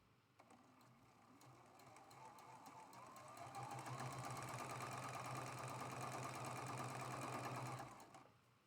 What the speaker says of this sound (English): We're going to sew these 2 rows together